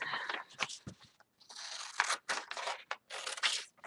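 Scissors snip through a piece of paper tag at a desk, a string of short crisp cuts and crunches with brief pauses between them, close and fairly quiet, no talking.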